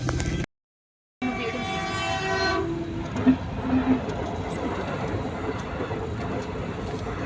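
A small train passes, its horn sounding a long steady note at the start before the clatter and rumble of the cars take over and roll on continuously to the end.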